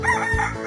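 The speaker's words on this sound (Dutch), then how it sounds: "Hoenderhaan." A rooster crows once over a backing of steady music, a short loud call with a rising and falling shape that fills the whole moment.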